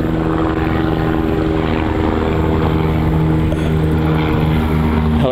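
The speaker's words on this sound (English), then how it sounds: "Helicopter wants to fly right over the house." A helicopter flying low right over a house, its loud throbbing rotor and engine drone filling the air continuously and close overhead, with no talk.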